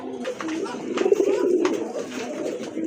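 Pigeons at a pigeon sale coo steadily and close by, low rolling calls overlapping throughout with a few sharper bird notes.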